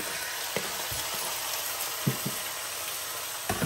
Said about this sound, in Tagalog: Fry lang natin ito.